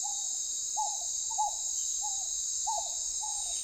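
A pygmy owl hoots in the Amazon jungle, giving six short, evenly spaced notes at moderate distance over a constant high insect drone.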